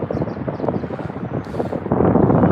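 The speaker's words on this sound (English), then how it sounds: "Pretty windy, guys." Wind gusting hard against a microphone outdoors, a dense, rumbling buffet that swells louder toward the end with no speech.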